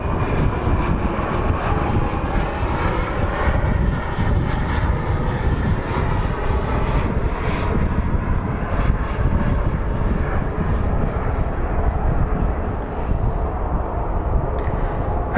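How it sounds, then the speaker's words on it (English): An airplane taxiing at Phoenix Sky Harbor airport produces a steady, loud engine roar and whine that holds constant throughout, with no talk over it. "I figured I'd film it to give you guys some diversity of planes"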